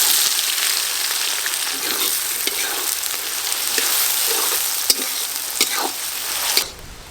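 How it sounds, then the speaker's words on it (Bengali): Chopped onions fry for a goat meat curry, a steady loud sizzle with a few sharp clicks and scrapes from stirring, ending abruptly near the close. "খাসি মাংসে একটু পেঁয়াজ কুচি বেশি লাগে, দিয়ে দেব।"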